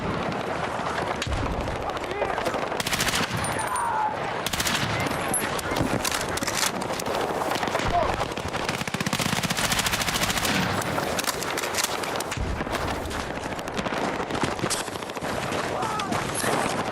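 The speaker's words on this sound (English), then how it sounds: "Why are you shooting at me, Broham?" Dense, continuous automatic gunfire and bursts of shots in a prison roleplay video game, loud and chaotic throughout, with voices talking over the shooting.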